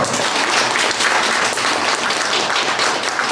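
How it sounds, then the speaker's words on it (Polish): Sustained audience applause after carol singing at a January carolling gathering, loud and steady with dense clapping that fills the whole stretch without voices. "Także Klaudia, jeszcze raz wielkie brawa!"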